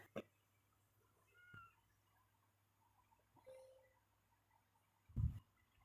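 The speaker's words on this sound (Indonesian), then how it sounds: "Meow. Kucing." A cat on a tenth-floor apartment corridor gives a few faint, soft meows spread apart in a quiet setting, with one louder short sound near the end and no talk.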